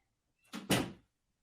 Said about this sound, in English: He just opened my door.